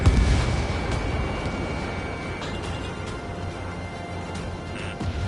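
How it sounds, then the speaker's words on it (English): An Ace Combat missile strike: a steady roar of broadband rumble and low booms, sustained and loud throughout, with a few faint sharp cracks scattered on top. "Missile hit."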